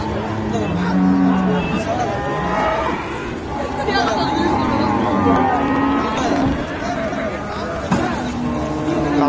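Cattle lowing at the Manapparai cattle market, several loud moos rising and falling throughout amid crowd chatter, people talking nearby and occasional passing vehicle noise.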